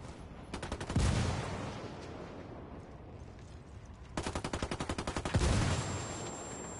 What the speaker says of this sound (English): They're shooting all around me